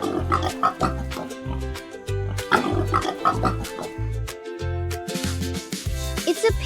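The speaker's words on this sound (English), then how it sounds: "It's a pig." A farm pig grunts and oinks in a quick, regular series of about a dozen close, loud snorts, with no talking.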